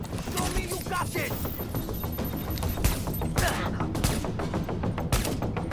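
Rapid bursts of gunfire fill a firefight in Tom Clancy's The Division, with loud repeated shots and clattering under shouting voices throughout.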